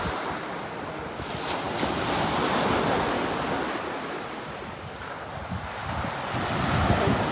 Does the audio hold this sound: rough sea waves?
yes